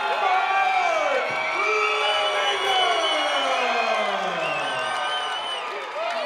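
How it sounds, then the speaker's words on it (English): Fight-night crowd cheering and whooping for a fighter introduction at a Chosen Few Fighting Championships event, a loud sustained roar with overlapping shouts and yells filling the hall. "listen to that crowd"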